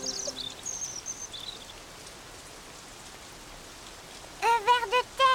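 Steady rain patters throughout, a dense wash of falling drops, with a few bright bird chirps breaking through near the end.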